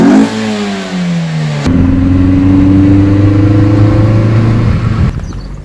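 A car engine fitted with a pod filter and a straight-through exhaust revs loudly and close by, dropping back, then climbing steadily in pitch through a sustained rev before cutting off near the end.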